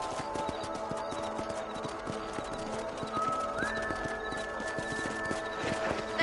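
A horse gallops in the Red Dead Redemption video game, a steady rapid clip-clop of hooves close by with rattling tack, accompanied by a rising tonal game sound partway through.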